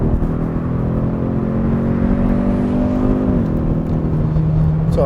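A 2021 Kia Stinger 2.5 turbo AWD accelerating from inside the cabin, a steady loud engine drone rising in pitch, then a gear change drops the tone before it climbs again, continuous with no talk.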